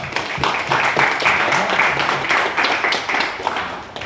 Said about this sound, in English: Can you have a round of applause for that?